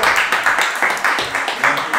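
Applause greets an arriving guest on a barbershop-style show set, dense clapping rising and falling in waves close by, with talk mixed in.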